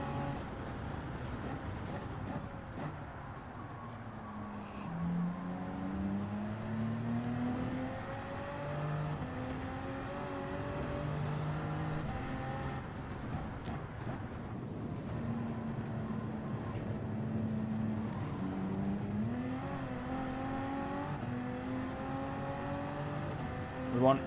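Race car on the Nürburgring in Gran Turismo 7, its engine note climbing repeatedly through the gears in rising sweeps, steady and moderately loud under occasional talk.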